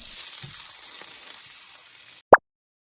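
Salmon fries in a pan with a constant soft sizzle and crackle for about two seconds, then cuts off abruptly, followed by one sharp, loud knock.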